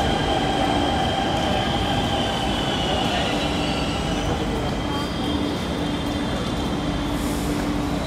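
A Delhi metro train rumbles steadily from inside the carriage, wheels humming on the rails with occasional faint squeals, loud and continuous.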